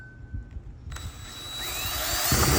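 A power drill bores holes through a trash can, a rising whine building from about a second in and growing louder, with a heavier grinding burst near the end.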